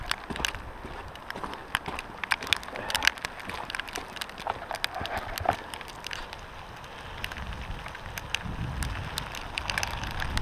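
Small hailstones fall outdoors, making dense irregular ticks and pattering clicks, close and fairly quiet, with some wind noise against the microphone.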